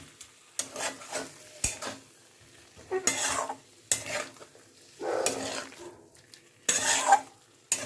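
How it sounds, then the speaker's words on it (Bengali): Potatoes for aloo dum being stirred and fried in a pan over low to medium flame, with repeated scraping bursts of spoon against pan and a light sizzle between them, close and fairly quiet. "লো টু মিডিয়াম ফ্লেমে রেখে আলুটাকে এইভাবে আমি আরও 2 মিনিট কষে নিচ্ছি।"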